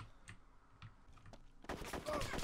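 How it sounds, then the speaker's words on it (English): Gunfire in the Arma 2 video game: a few faint distant shots, then a burst of louder rapid fire near the end, with little else around it. "I hear gunfire."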